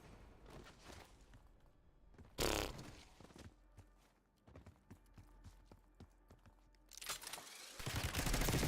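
Gunfire in a Call of Duty Black Ops 6 match: bursts of rapid automatic shots, some distant and muffled, with loud bursts near the start and again at the end, alongside sharp footstep-like clicks and no talk.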